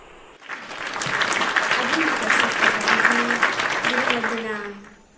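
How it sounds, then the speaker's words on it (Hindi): An audience at a Hindi poetry gathering claps to welcome the poets, a dense, sustained round of applause that swells in and fades out, with a voice speaking faintly over it. "तो जोरदार ताली से स्वागत कीजिए हमारे कुछ कुटुंब के रचनाकारों का।"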